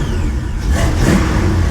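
A 1956 car converted to a two-door revs its engine loudly nearby, rising to a strong mid-range roar and holding there, with no talk over it.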